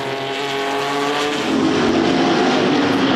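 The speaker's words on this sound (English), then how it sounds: "Porsche 910s having a go there" Porsche 910 race cars at the Le Mans Classic pass with a loud, rising engine roar that swells as they approach and accelerate, a continuous close mechanical howl.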